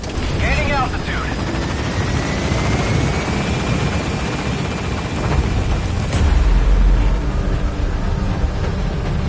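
A military helicopter in Metal Gear Solid V takes off and climbs. The rotor roar stays loud and steady throughout, with a rising whine in the middle and a deep rumble swelling near the end.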